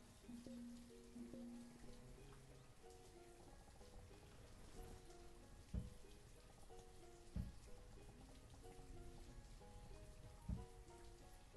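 Steady, soft rainfall patters continuously in the video game Banished, with occasional louder drops and faint tonal game sounds beneath the wash.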